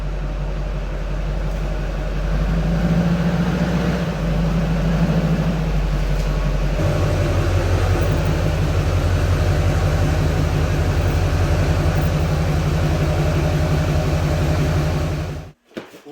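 A lifted Duramax diesel truck on a back road gives a steady, loud engine drone and road rumble. The engine note shifts partway through, then the sound cuts off sharply at the end.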